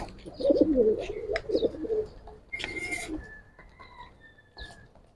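Giribaz pigeons, a large hen among them, coo in a series of soft, rolling calls at close range, with thin chirps and faint background noise following after the cooing fades.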